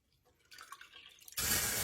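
Warm water from a tap splashes into a measuring cup after a few soft kitchen clinks, the flow growing louder and steadier near the end.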